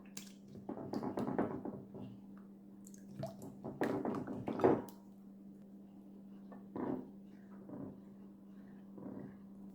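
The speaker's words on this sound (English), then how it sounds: "we're just going to stir that all around, make sure that egg is good and mixed up" Egg mixture is stirred in a bowl with soft wet squishes and light taps of the utensil, quiet and intermittent over a low steady hum.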